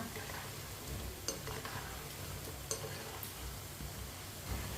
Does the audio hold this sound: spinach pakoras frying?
yes